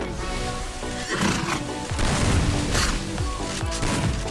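A horse neighs and whinnies in the Free Fire video game. The call rises out of a dense, loud mix of game effects with thudding impacts and crashes throughout.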